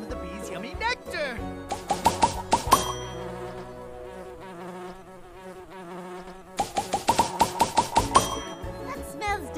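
Cartoon bees buzzing as they fly between flowers, thin insect-like drones rising and falling over a busy musical score, with a rapid burst of chiming notes near the start and again near the end.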